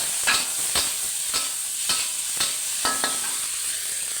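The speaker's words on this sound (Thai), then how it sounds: "มีหอมใหญ่มะเขือเทศลงด้วย ใส่ลงไปผัดเลย" Onion and tomato stir-fried in a wok, with a steady sizzle under five or six sharp scrapes and clanks of the spatula against the pan, evenly spaced about half a second apart.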